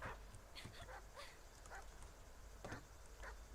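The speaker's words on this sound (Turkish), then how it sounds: "Rottweiler cinsi bir köpek." A Rottweiler in the survival game Die Young lets out several short, scattered barks and yips at moderate distance over a steady background hum, with no talk.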